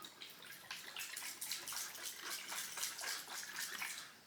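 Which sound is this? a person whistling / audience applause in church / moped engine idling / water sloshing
water sloshing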